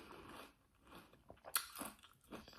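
Crunchy fried food is bitten into and chewed in a quiet room, giving close, crisp crunches with one sharp cracking bite in the middle.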